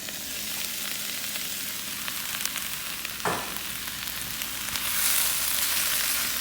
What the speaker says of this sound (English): I'm going to add the wood's ear mushrooms.